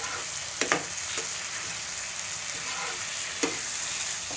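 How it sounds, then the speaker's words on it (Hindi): Potatoes and spices frying in a pan for anday aloo ki bhujia, a steady close sizzle with a few brief stirring scrapes, no voices. "ताकि जो मसाले हैं अच्छे से भुन जाएं"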